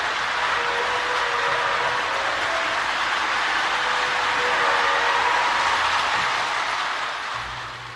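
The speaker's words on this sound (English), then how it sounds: "This one is a train sounds tender that I picked up for 15 bucks." Steady synthetic rolling-train noise comes from a Lionel model train sounds tender on the repair bench, even and continuous before easing slightly at the end, with no speech.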